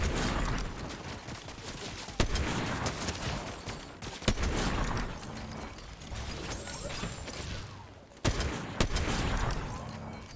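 A sniper rifle fires in Fortnite Chapter 5 Season 1 custom games: three loud, sharp shots spaced a few seconds apart, over constant in-game noise and movement sounds.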